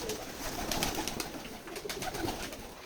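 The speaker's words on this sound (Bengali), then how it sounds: "আমরা আমাদের এই খামারে দেশি বিদেশি সকল ধরনের কবুতর লালন পালন করে থাকি।" Pigeons of local and foreign breeds on a village farm in Keshabpur, Jessore, coo softly and repeatedly among a low ambient murmur, with several birds overlapping close by.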